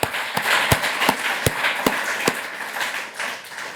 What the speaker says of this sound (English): please join me in a round of applause for both of them